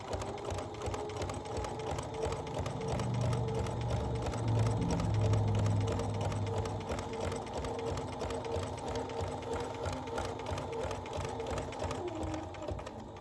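A sewing machine runs a steady, continuous stitch as a tiny zigzag is sewn around a basket diamond quilt block, the motor's hum holding constant at close range and swelling slightly midway.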